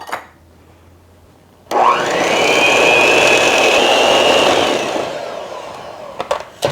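An electric mixer whirs loudly and steadily through a bowl of sugar and powdered sugar, kicking in abruptly after a quiet start, holding a high whining drone, then easing down and stopping with a few clicks.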